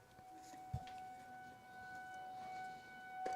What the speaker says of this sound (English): Boy, them sirens are, whew.